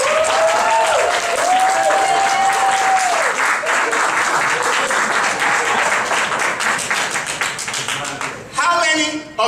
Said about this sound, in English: Then you'll clap, okay?